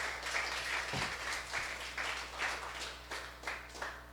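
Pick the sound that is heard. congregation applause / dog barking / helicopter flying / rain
congregation applause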